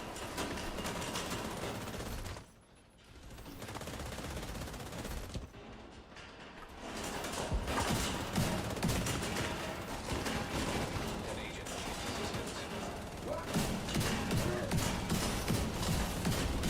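Dense, continuous light machine gun fire in The Division 2 video game, loud and close with only a couple of brief lulls, amid mechanical clatter and some talk underneath.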